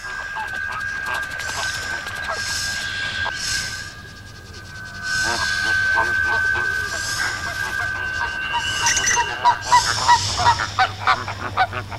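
A large flock of flamingos of two species calls together in a dense chorus of honking cries, with a low steady rumble beneath and the calls growing louder and more frequent toward the end.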